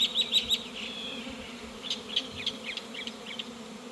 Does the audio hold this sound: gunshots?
no